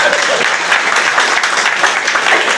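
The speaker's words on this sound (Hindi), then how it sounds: "यदि आप लोगों ने तालियां बजाने में कोताही बरती तो ये लोग फोटो नहीं छापेंगे।" An audience at an anniversary ceremony of the Anti Corruption Corps in Barhalganj, Gorakhpur, claps loudly and continuously, a close, dense burst of applause with no talk over it.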